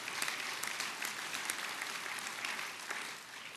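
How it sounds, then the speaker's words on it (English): Applause from a large conference audience at a green-jobs labor gathering, a steady dense wash of clapping that holds at an even level throughout. "Give yourselves a round of applause"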